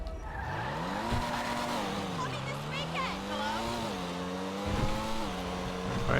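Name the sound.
Pfister Comet SR car engine in a video game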